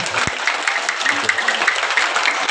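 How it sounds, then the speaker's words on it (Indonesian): A brief burst of clapping from a small group, with some voices mixed in. "Tepuk tangan."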